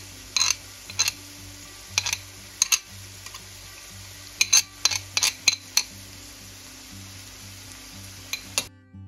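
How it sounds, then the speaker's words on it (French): Onions and garlic sautéing in a pan for a traditional kefta and egg tajine, with a steady low sizzle beneath repeated sharp clinks and scrapes of a utensil against the pan, close by and with no talking. "Voilà, donc on a fait revenir les oignons et l'ail."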